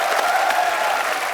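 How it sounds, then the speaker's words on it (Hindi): Studio audience of a Hindi comedy talk show breaking into applause, a dense, steady wash of many hands clapping at once, loud and sustained with no talk. "जोरदार तालियां हो जाए।"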